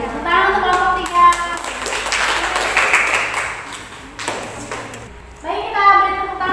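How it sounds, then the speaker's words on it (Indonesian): Students in a classroom clap for a group after its presentation in a teacher-training lesson, a burst of hand claps from about one to five seconds, with voices speaking before and after. "Tepuk tangan untuk kelompok 3."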